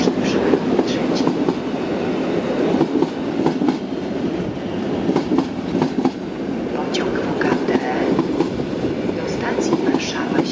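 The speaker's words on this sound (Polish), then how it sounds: "Do stacji Warszawa lotnisko Chopina wjeżdża na tor" A passenger train rolls into Warsaw Chopin Airport station, its steady rumble and rhythmic clickety-clack of wheels on rail joints running loud and continuous throughout, with faint metallic squeals rising now and then.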